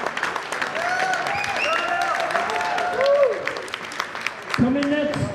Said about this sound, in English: Big round of applause for Devin,